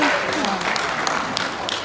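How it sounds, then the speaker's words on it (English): Brief audience applause for volunteers at a stage hypnosis show, a steady wash of clapping with a few sharper claps, heard under a speaking voice. "One more big round of applause out there for all of our volunteers,"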